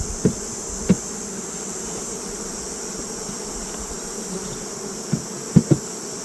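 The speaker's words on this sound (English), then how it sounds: "I need to shake all the bees here" A steady drone of honeybees humming around a hive fills the background, broken by a few soft knocks and clicks near and far.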